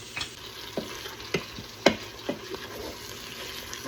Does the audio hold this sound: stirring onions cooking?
yes